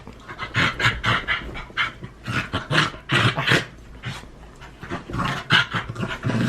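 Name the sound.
dogs panting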